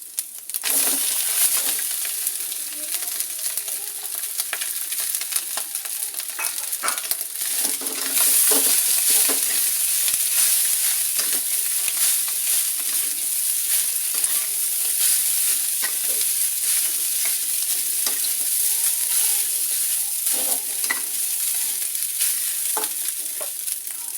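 Rice being stirred and fried in a pan for simple nasi goreng, with continuous loud sizzling and frequent scraping clinks of a utensil against the pan, steady throughout with no talking.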